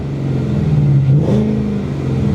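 A 2015 Ford Mustang GT with a manual gearbox idles with a deep, loud V8 rumble, then a brief light pump of the throttle lifts it into a short rev before it settles back.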